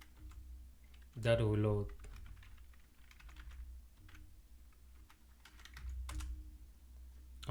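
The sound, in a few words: typing on a computer keyboard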